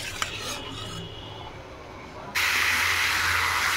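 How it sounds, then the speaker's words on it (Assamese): Chicken meat fries in a pan with a quiet hiss that suddenly jumps into a loud, steady, bright sizzle partway through, after a clink at the start. "মাংসটো নহয় ভালকৈ নহয় ফ্ৰাই কৰি আছে।"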